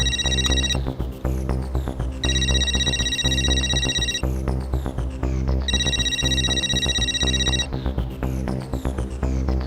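A phone ringtone plays loudly in repeated bursts, a bright electronic ring that recurs about every three seconds over a steady throbbing tone.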